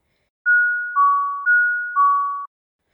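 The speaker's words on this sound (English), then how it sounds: "I heard the doorbell ring." A two-tone electronic doorbell chimes twice, each ding-dong a clean pair of sustained tones, high then lower, ringing alone in a quiet room.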